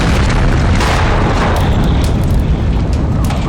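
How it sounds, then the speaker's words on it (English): Fuel tanks exploding in a large fire, their lids blowing off under high pressure, make a loud, continuous roaring boom that fills the whole stretch with dense rumbling and no break. "This is how the tanks are supposed to react, with their lids blowing off under high pressure."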